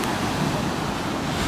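Morning sea waves wash onto a hotel beach in Alanya, Turkey, a continuous broad roar of surf mixed with wind noise on the microphone, without any speech.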